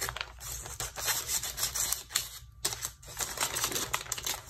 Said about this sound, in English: So this month I'm going to cut the bag.